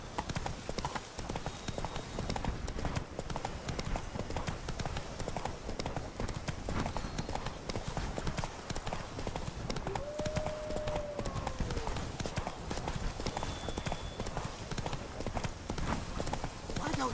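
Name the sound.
Roach the horse's hooves clip-clopping in The Witcher 3 video game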